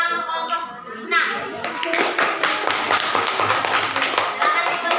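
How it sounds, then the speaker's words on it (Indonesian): A group of children claps in rapid, crisp bursts, the applause dense and close, with voices talking over the start before the clapping takes over. "terima kasih tepuk tangan untuk kelompok"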